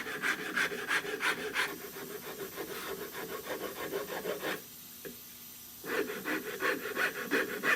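A wooden gunstock on an old Essex double gun is smoothed by hand near the trigger guard, with rhythmic rasping strokes, close and clear, stopping briefly before resuming.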